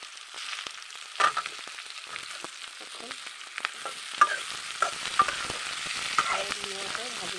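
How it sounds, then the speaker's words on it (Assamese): Potato pieces fry in a pan with onion and bay leaf for khichdi, a soft close sizzle broken by repeated scraping clicks and knocks of a spoon stirring. "আৰু ধুনীয়াকৈ ভাজি ল'ম অকণমান ৰঙচুৱা হোৱাকৈ ভাজি ল'ম"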